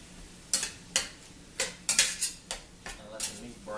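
A utensil knocks against a pan in a string of sharp, irregular taps while ground meat and cumin are mixed, close and clear with light scraping between the hits.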